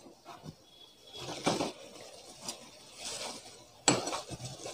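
Mutton korma being stirred in a pot: soft scraping and clinking of a spoon against metal, with a gentle sizzle and a sharp clank near the end, close and fairly quiet.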